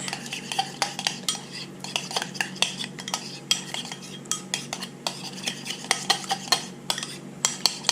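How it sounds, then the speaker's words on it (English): A utensil stirs crab cake mixture with a teaspoon of Dijon mustard in a bowl, giving a steady run of close scraping and clinking strokes in an even rhythm, with no voices. "we will take this and mix it up"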